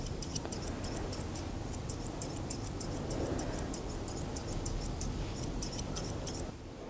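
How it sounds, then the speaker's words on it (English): Scissor tips snip a poodle's head fur in quick, steady rhythmic bursts, close and soft, over a low background hum. "I prefer to just use the tips of my scissors when I'm doing more precision cutting."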